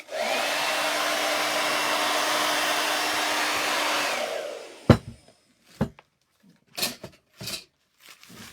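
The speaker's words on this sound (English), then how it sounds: "I'm just going to blow over my hairdryer" A hair dryer blows with a loud, steady whooshing hum for about four seconds, then shuts off, followed by a few scattered taps and knocks.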